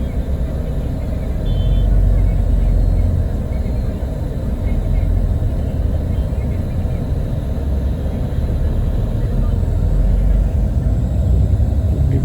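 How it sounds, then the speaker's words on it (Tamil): Heavy weekday-level road traffic near the Pondicherry market area rumbles around a moving intercity bus on the Karaikal to Chennai route. A loud continuous low engine and tyre drone runs throughout, with someone talking over it. "சாட்டர்டே கூட இவ்வளோ டிராஃபிக்காக இருக்குது."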